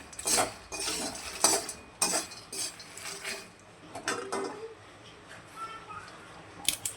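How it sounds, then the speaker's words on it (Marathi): Makhana (fox nuts) being dry-roasted in a pan over a low gas flame, with light clinking scrapes and rustling stirs in irregular bursts, quiet and close, under faint speech. "मखाना भाजून घेऊया."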